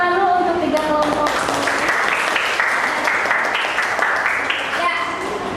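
Classroom applause for three student groups, a steady wash of many hands clapping that runs continuously at full strength throughout.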